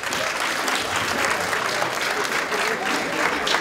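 Steady, dense applause from an awards-ceremony audience at the Calabash Awards fills the moment, a continuous wash of many hands clapping at fairly even loudness throughout.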